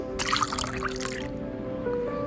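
A brief pour and trickle of water in a cooking game, a bright splashy burst followed by a softer drip, with a steady electronic tone running underneath.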